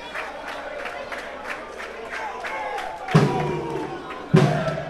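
Guarany de Sobral supporters in a stadium crowd during a Cearense Série B match against Horizonte, a steady murmur of cheering with scattered claps, broken by two loud thuds near the end.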